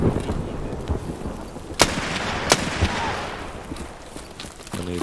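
Gunfire in the video game Escape from Tarkov: a few sharp, separate shots crack over a dense, noisy game background, with no talk heard.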